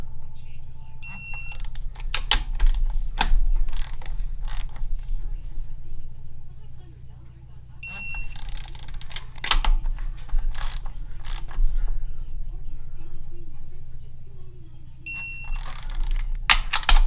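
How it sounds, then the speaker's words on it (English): Torque wrench ratcheting as bolts are tightened on a GM 6T70 transmission during a rebuild, giving several short bursts of dense mechanical clicks with a low background hum and some speech. "All right, they're all torqued down."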